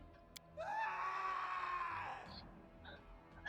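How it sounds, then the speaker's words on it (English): A single long, wavering scream from the video game Pathfinder: Kingmaker rings out for about two seconds, echoing as if down a hallway, then trails into faint reverberant tails and quiet ambience. "a scream echoes from down the hallway"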